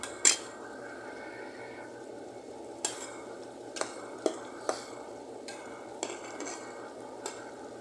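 A spoon stirs pumpkin curry in a pot. Scattered, sharp scrapes and clinks against the metal sound over a faint, steady simmer.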